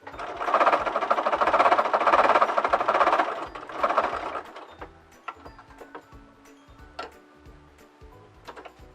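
A sewing machine stitches a gnome's fabric body and base in a long steady run for about four seconds, then stops, leaving quiet handling clicks and small taps as the fabric is adjusted.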